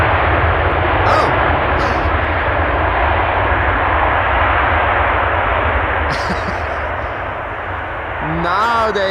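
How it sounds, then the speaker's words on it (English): A landing airliner at Schiphol roars loudly and steadily as its thrust reversers spool up, with broadband engine noise throughout and a person speaking over it. "now they began spooling up the reversers ever so slightly"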